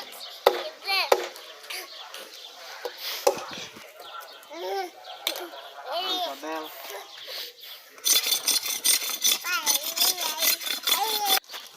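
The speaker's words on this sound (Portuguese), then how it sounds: "agora o meu pai está rapando a cana para não ficar um caldo de cana meio amargo" A father scrapes the skin off sugarcane stalks before juicing, making rhythmic rasping strokes that grow denser toward the end, mixed with voices talking throughout.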